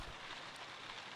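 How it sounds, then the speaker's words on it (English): Steady rain falls in the video game Sherlock Holmes: Crimes & Punishments, a soft, even hiss of drops spread across the whole moment with no voices. "Rain, beautiful."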